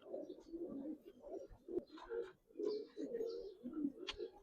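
A Giribaz pigeon coos in a series of low, rhythmic throaty bursts with brief pauses between them, quiet and close, and no talking.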